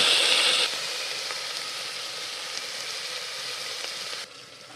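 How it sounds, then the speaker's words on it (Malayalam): Shallots fry in hot oil with crushed garlic and ginger for a chicken curry, giving a steady, close sizzle that drops a little in level partway through and fades near the end. "ചെറിയ ഉള്ളി മൂത്ത് വരുമ്പോഴാണ് വെളുത്തുള്ളി ഇഞ്ചി ചതച്ച് വെച്ചത് ഇടുന്നത്."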